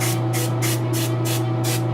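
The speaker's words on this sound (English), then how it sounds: "what I'm doing is I'm just kind of like taking down some areas, you know, spraying far away" An aerosol spray can hisses in five even, rhythmic bursts while paint goes onto a Jessica Rabbit figure, each blast loud and close over a steady background hum.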